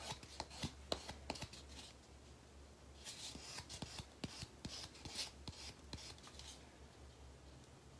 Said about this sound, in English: take your buffing block, and like I said, I would start with the fine side first and then go to super fine